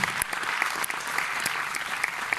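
Film festival audience applauding the film Volcano at an award presentation, a steady patter of many hands clapping at moderate volume, with a few sharper individual claps standing out.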